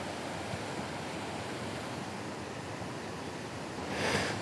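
Waterfall reached after a short uphill hike, a steady broadband rush of falling water that stays loud and unbroken throughout, swelling slightly near the end.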